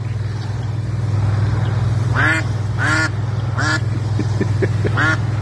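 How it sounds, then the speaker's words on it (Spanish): Ducks quack near water in a series of loud, nasal calls, some single and some in quick runs, over a steady low hum of background noise. "Responde el cuac."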